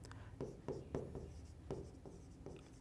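Pen writing on paper during a Class 12 computer science lesson, heard as a faint series of short scratchy strokes and taps with brief pauses between them, close by and with no talk.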